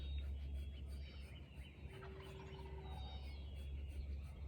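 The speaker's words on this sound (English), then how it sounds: "I hope you can hear the turkeys in the background." Turkeys gobble in the background outdoors, a faint, slightly distant burst of warbling calls rising once in the middle while a low steady hum continues underneath.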